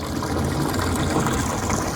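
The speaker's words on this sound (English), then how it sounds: "let the water just drain out of here" Water drains steadily out of a 275 koi vat, a continuous close rushing gush with no breaks for the whole stretch.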